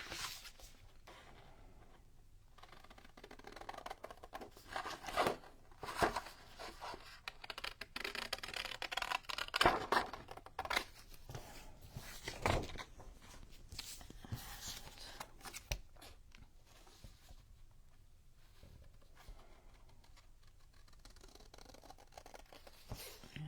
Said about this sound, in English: I'm just going to use my scissors to cut this out because I think it'll be quicker.